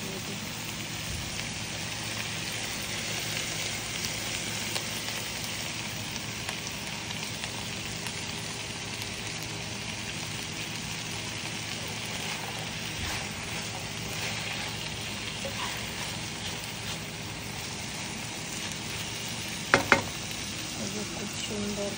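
Vegetables fry in a pan with green chilies added, giving a long, even, close-up sizzle like light rain, broken near the end by a couple of sharp knocks.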